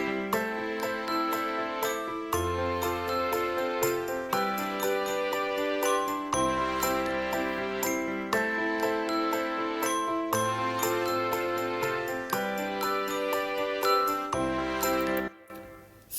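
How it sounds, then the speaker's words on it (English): Christmas track built in GarageBand on iPad, with jingling bells and a high-pitched glockenspiel carrying a bright, steady melody over bass and backing instruments, loud and continuous for the whole stretch before stopping abruptly near the end. "the kind of bells in the background, and you're hearing the high pitched, which is our glockenspiel here"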